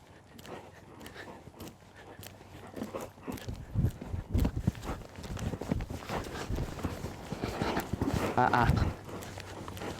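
A horse being schooled around cavaletti blocks steps in a soft, uneven clip-clop of hooves on ground, building louder midway, with a person talking over it.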